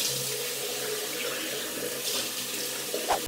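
Tap water runs steadily into a bathroom sink while someone washes their face, a close, continuous splashing hiss with a small clunk near the end.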